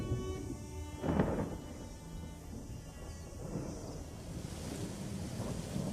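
A rainy-season storm rumbles with rolling thunder over steady rain and gusting wind, one louder thunder crack early on, then continuous low rumble and hiss with no voices.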